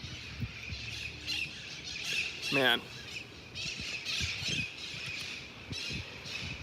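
Birds squawking and chirping nearby outdoors: a loud rising squawk stands out midway among scattered short chirps, with someone speaking briefly over it.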